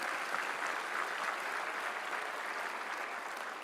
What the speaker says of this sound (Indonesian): Kita tepuk tangan untuk Pak Joko.